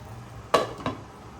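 A metal lid goes onto a cooking pot of Roopchand (chanduva) fish curry on a stove, two quick clanks close by, the first sharper, over a faint hum.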